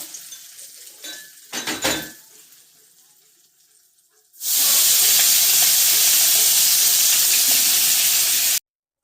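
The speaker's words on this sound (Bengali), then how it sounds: "এবার আমি চিংড়িটা ভেজে নেব" Prawns frying in a pan, seasoned with salt and turmeric: after a few brief clinks of utensils, a loud, steady sizzle bursts in and holds for several seconds before cutting off abruptly.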